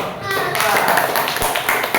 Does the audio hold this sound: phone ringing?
no